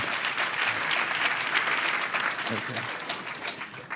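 An audience at a lightning talks session at the HOPE Number Nine hacker conference applauds two speakers, steady dense clapping filling the room throughout with a few nearby voices mixed in.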